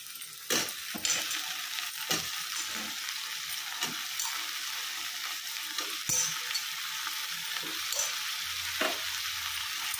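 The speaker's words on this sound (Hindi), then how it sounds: "और इसके बाद अब डाल रही हूँ मैं इसमें मूंगा ताकि इसे थोड़ा फ्राई कर लिया जाए" Drumsticks (munga) fry in a pan with oil for a spicy drumstick-potato curry, a steady close sizzle with scattered stirring clicks and spoon taps on the pan throughout, no voices.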